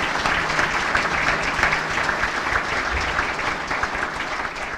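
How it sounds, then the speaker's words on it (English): Applause from an audience at a community breakfast held at an officers club, a dense, continuous wash of many hands clapping at a steady level for several seconds without speech. "I'd ask that you join me in a round of applause for Janet Bowen"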